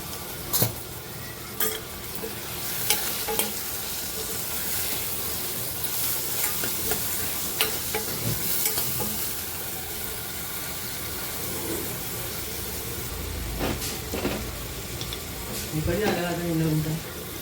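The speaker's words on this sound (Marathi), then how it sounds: "एकदम छान परतून घ्यायचे आहे आता मसाले." Spices stir-fried in a pan for an eggplant and potato curry, with steady close sizzling and occasional scrapes and clinks of a spoon against the pan throughout.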